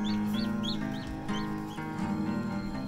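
Chickens cluck and peep near an egg incubator where a chick has just hatched, with repeated soft calls layered over a steady hum.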